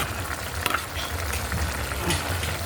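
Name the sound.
chicken liver and gizzard adobo ingredients being stirred in pan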